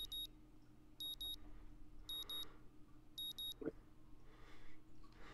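An alarm clock rings in the visual novel Katawa Shoujo, with four evenly spaced bursts of shrill double beeps about a second apart over soft background music.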